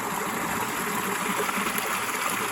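Steady, continuous rush of water pouring from a main pump line into a distribution tank, a dense broadband hiss with no pauses and no voices.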